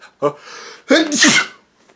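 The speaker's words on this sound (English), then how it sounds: "Oh, hold up, sorry, about to sneeze." A single sneeze: a short breathy intake, a pause, then a loud explosive burst that trails off over about a second.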